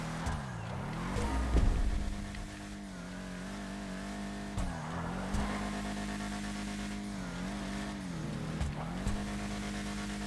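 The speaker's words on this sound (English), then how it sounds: "Come on, now you should be burning out getting into third gear." A Vapid Ellie American muscle car from a driving video game revs hard while drifting, its engine note rising and dipping repeatedly through gear changes, loud and close with brief tire squeal.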